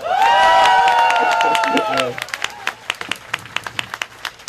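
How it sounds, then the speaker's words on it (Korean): Audience at an outdoor political guerrilla concert clapping, a loud burst of applause with vocal cheering that thins into a few scattered claps. "많은 분들이 다 같이 박수로 화답해 주시는데"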